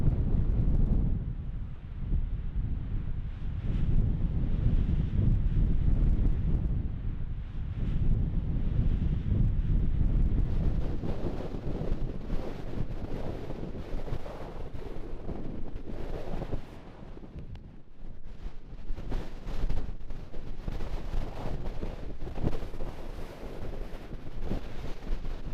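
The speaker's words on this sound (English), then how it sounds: "Did we mention the wind's blowing today?" Strong gusting wind buffets a microphone outdoors on a Utah mule deer rifle hunt, a loud continuous low roar that swells and eases without letup.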